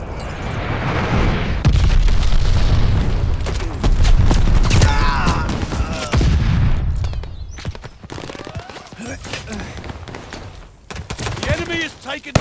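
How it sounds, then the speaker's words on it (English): A glide bomb detonating in a first-person shooter match, heavy booming blasts and rumbling mixed with gunfire and a game announcer's voice, loud and close, fading into scattered shots and speech. "Enemy's got a glide bomb incoming."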